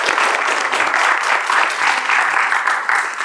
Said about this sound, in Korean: 박수 한번 다시 한번 보내주세요